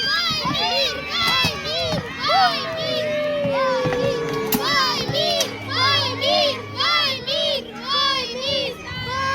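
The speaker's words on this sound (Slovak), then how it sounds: "Kričte viac, deti! Nech to počuť!" Children shout and call out loudly in a lively crowd at play, with overlapping high voices rising and falling continuously, a brief whistle-like tone and busy movement beneath.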